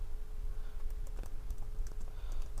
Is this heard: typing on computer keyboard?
yes